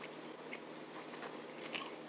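Soft, chewy black licorice with anise flavor being chewed close to the mic, a few muffled bites and a sharper crunchy click near the end over a quiet hiss, with no talking.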